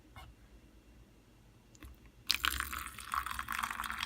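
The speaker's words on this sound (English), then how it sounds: "I'm gonna add some more of this boiling water in there" Boiling water pouring into a cup over a hot oil hair treatment, a soft splashing stream that starts suddenly after quiet handling clicks and keeps running unevenly, close and fairly faint.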